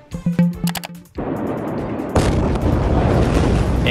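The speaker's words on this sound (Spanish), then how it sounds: "una explosión ocurrida en el puerto de Beirut, en Líbano" Footage of the explosion at the port of Beirut, Lebanon: a few sharp cracks and pops, then a sudden heavy roaring blast that keeps rumbling, followed by a second, louder surge of wide noise that fills the rest.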